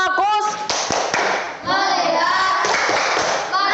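A classroom group performs the 'tepuk fokus' clapping routine, a few sharp, loud claps in a set rhythm mixed with young voices chanting along.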